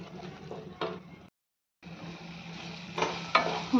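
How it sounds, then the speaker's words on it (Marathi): Masala and black chutney roasting in oil in a pan for a village-style puri bhaji, a soft sizzle with stirring scrapes that stops for a moment, then returns with a few sharper clinks. "मसाला छान भाजत आलाय"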